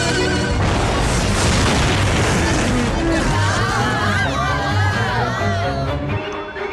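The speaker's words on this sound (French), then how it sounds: "apparemment son canon est opérationnel" A heavy booming cannon blast with rumbling, crashing aftermath, loud and close, followed by a mix of voices and chaotic noise, in an animated cartoon.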